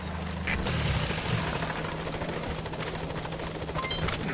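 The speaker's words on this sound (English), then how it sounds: "Support helicopter has arrived." The support helicopter in Metal Gear Solid V: The Phantom Pain arrives with a continuous rotor thrum and a steady engine drone, loud and close, with no voices.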